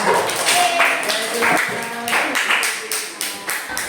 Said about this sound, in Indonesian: Kita kasih tepuk tangan dulu buat temennya ya.